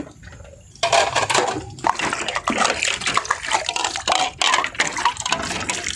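Bowls are washed in a basin of water, with loud nearby splashing, sloshing and clattering of crockery that starts abruptly after a quieter moment.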